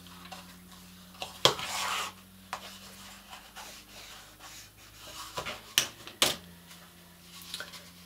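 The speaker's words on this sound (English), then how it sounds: "reach in there and give that a burnish as well" Paper edges glued on a small fairy house are burnished by hand. Soft, faint rubbing and scraping strokes come in a few separate bursts, with sharper ticks and taps between them, close up with no talking.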